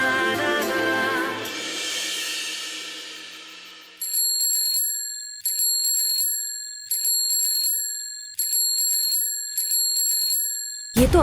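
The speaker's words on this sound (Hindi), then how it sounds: "ये तो अश्की के घंटी की आवाज है।" A bell rings in sharp, bright strikes, about six evenly spaced rings each fading out, clear and alone after an earlier stretch of background noise.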